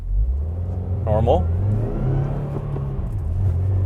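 A 2020 Subaru WRX pulls away gently in first gear, its engine a steady low rumble that rises slightly as it accelerates. A short spoken word comes in early over the engine.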